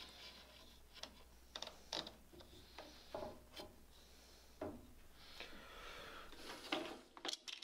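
Quick-release clamps ratchet and click as they tighten on scrap firewood pieces of a blanket rack, a string of soft, irregular clicks and rubs close by in a quiet room.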